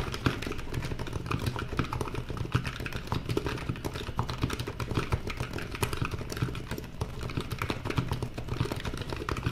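Rapid, steady typing on a Razer Huntsman Mini compact keyboard with linear switches: dense clacking keystrokes run continuously and fairly close, with no voices.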